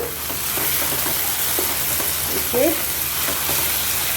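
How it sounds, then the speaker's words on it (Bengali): Spice masala sautéing in a pan for a home-cooked fish, chicken and paneer meal, giving a steady close sizzle broken by repeated scraping stirs of a spoon. "মশলাটা ভালোভাবে কষানো হয়ে গেছে"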